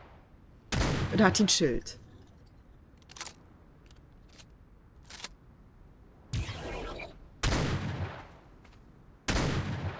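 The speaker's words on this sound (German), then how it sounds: "Wahrscheinlich habe ich doch daneben geschossen." Guns fire at a scout drone in the ARK Extinction video game, a few separate loud shots and bursts spread out with pauses, and someone speaks briefly between them.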